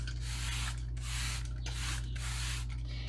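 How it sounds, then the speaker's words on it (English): A spray bottle hisses in four even bursts, misting water onto sourdough bread loaves, close up, over a steady low electrical hum. "then from there I spray them down with water."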